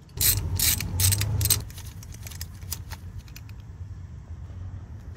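A ratchet loosens the spark plugs on a Suzuki Cappuccino engine, giving quick bursts of close, sharp clicking over about a second and a half. Softer scattered clicks and handling noises follow.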